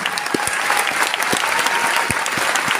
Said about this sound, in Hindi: सारे वॉलंटियर्स के लिए जबरदस्त तालियां।